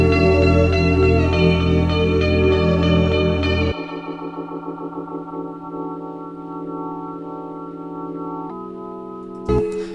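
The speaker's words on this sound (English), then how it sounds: "the organ is pretty, especially because I'm playing with the speed of the rotary speaker" An organ plays sustained chords through a Leslie rotary speaker whose speed changes, giving a swirling, wavering tremolo. Loud and full at first, it thins to a quieter held tone before a brief burst at the end.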